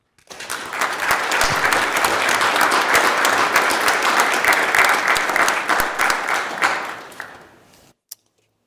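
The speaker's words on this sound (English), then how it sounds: "give the religious folks a nice big round warm applause" Senators in a Senate chamber give a warm round of applause that swells quickly, holds strong and even, then tapers off and stops, leaving near silence with one last brief knock.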